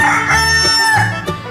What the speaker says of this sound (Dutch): Het dier op de puzzel is een haan.